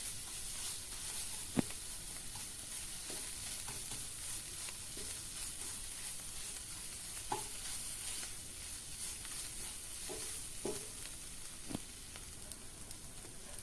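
Crab curry masala with chili paste and salt is stirred in a pan, a steady sizzle running throughout with a few sharp spoon scrapes and clinks scattered across it, no voices.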